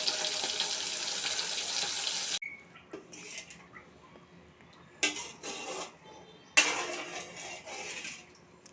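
Water is poured into a pan of fried fish and sautéed potatoes for a thin curry broth, a loud steady pour for about two seconds followed by quieter bubbling and a few sharp clattering bursts.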